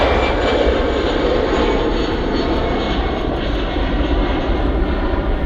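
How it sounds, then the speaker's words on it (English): A light airplane taking off from the runway at Manchester Airport, its engine roar loud and steady throughout, close and continuous with no talk. "that's quite a short takeoff"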